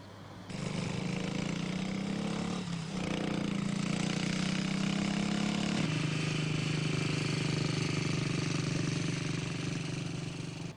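A 1965-era motorcycle accelerates across a road crossing, its engine a loud, steady roar that rises in pitch and holds close for about ten seconds.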